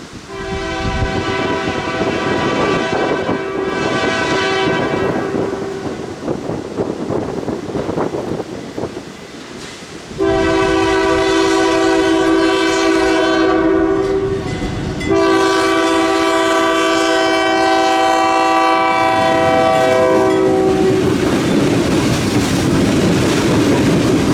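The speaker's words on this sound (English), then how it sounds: "Here comes the empty ore train from Two Harbors as it crosses Ramshaw Diamond with a trio of C40-8" Empty ore train from Two Harbors led by three C40-8 Dash 8 locomotives, crossing Ramshaw Diamond, sounds several long, loud multi-tone horn blasts over rumbling engines and wheel noise, with wind buffeting the microphone.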